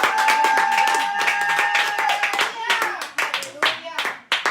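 A church congregation claps in quick rhythmic unison to acclaim Jesus Christ during a sermon, close and lively, with voices calling out over the clapping.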